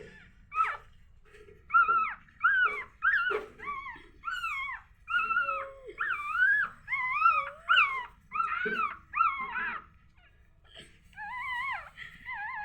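A puppy cries with repeated high whimpers and wailing yelps, close and insistent, while its littermates nurse on milk beside it; no talk.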